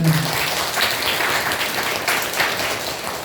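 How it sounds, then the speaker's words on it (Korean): A room full of people at a church workshop closing gathering applauding, a dense, steady wash of clapping that carries on throughout at a fairly loud level. "그분들 박수 한번 할까요?"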